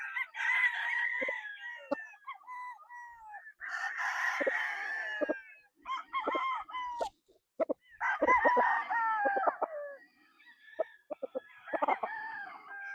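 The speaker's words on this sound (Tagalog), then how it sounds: "Ito yung mga roundhead sweater crosses namin mga ka-sniper sa early bird." Roundhead sweater cross gamefowl roosters at a game farm crow repeatedly, several loud overlapping calls close by, interspersed with clucks and short knocks, with no talk.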